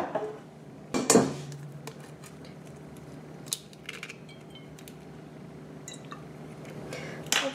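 Eggs being separated into bowls for a mascarpone preparation, sharp clinks of shell and spoon against glass or ceramic bowls, a few distinct knocks and small rattles over a quiet room hum.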